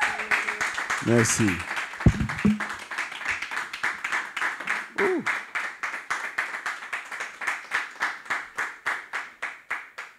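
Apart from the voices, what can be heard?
congregation applause for a testimony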